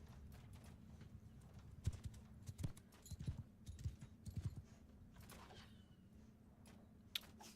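Cavalry horses gallop across a Mount & Blade battlefield, hooves thudding in a quick, irregular clatter that bunches up midway, moderately close over a low ambient rumble.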